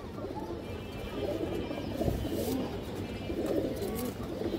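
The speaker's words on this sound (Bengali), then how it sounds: "এই যে দেখেন একটা নর কবুতর" A male pigeon of a fancy breed coos softly in low, rolling calls, faint amid steady background noise.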